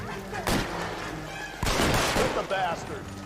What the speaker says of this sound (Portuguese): Nossa, atirei na parede tudo.